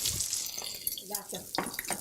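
Mushrooms sautéing in a pan on high heat give a broad, hissing sizzle with scattered crackles and stirring noises, heard under nearby talk.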